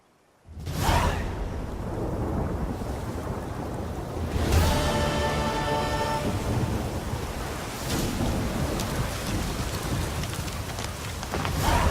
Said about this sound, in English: This storm, damn it.